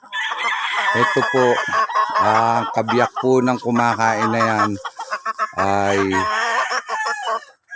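Young fighting stags crow and cluck in their pens on a farm, mostly buried under someone talking close to the mic throughout.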